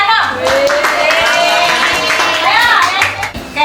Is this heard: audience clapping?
yes